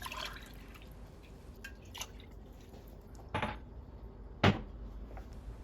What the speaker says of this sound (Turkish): Yarım su bardağı sıvı yağ, 3 su bardağı da su ilavesi yapalım üzerine.